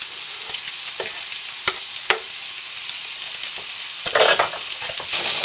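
Onion fries in a hot pan with a steady, close sizzle that grows louder toward the end. Occasional knocks and scrapes from stirring break through the sizzle, and no one speaks.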